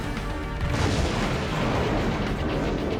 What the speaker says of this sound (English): the sniper cannon's pretty strong